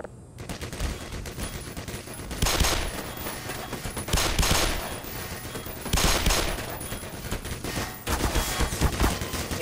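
A gun in Black Mesa Source fires repeatedly, sounding as loud bursts at roughly two-second intervals over a steady din of rapid shots and game noise.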